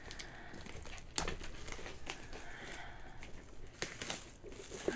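Plastic wrap on a Pokémon Celebrations Elite Trainer Box crinkling and crackling up close, with sharper tearing bursts near the start and toward the end, no voices.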